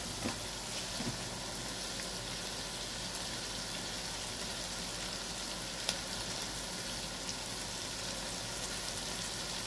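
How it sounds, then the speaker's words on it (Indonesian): Food frying in a pan in a home kitchen sizzles steadily while it is stirred, a constant close crackle with a few faint scrapes and no talk. "Aduk-aduk sampai tidak berkerak, tidak gosong bawahnya."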